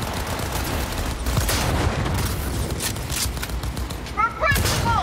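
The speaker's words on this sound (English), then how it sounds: "And what is that shooting?" Rapid gunfire in the Cyberpunk 2077 video game crackles in dense bursts throughout, loud and sustained like a firefight, with a voice speaking faintly beneath.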